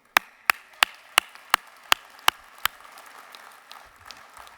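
Eight sharp, evenly spaced claps ring out in a slow, steady rhythm at a VFW national convention, loud and close, then give way to a faint room murmur.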